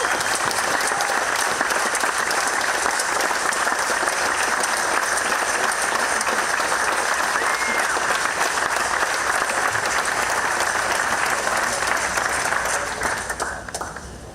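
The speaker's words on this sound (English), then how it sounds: "Please give a big round of applause in welcoming and accepting an award, Chief Executive Officer of Lion, Steve Schw" A crowd at a hall of fame award ceremony applauds in a dense, sustained wash of clapping that holds loud and steady for about fourteen seconds before tapering off.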